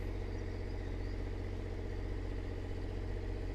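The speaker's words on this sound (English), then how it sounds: "Just a very smooth ride up here on the cherry picker." A cherry picker's engine runs steadily during a ride up at a roof pressure-washing job, giving a constant, even low hum and rumble with no change in pitch and no talking.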